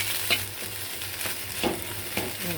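Khar kol leaf stalk bharta fries in oil in a pan, giving a steady close sizzle with a few spoon-scraping stirs, and there is no talking.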